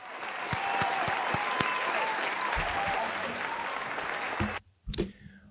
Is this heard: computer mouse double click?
no